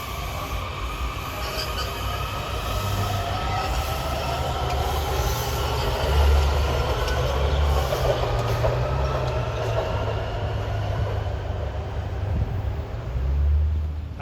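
A train rolls steadily along the CSX RF&P line, a continuous low rumble of wheels and railcars with faint squeals, holding at an even, fairly loud level with no talk.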